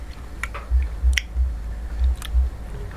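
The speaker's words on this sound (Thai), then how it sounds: "อันมาเคี้ยวมันสิเปรี้ยวนำหน่อยหนึ่ง" Someone chews sour wild forest fruit (mak yang pa), a series of moist, squishy bites and crunches repeating every half second or so, close and fairly quiet.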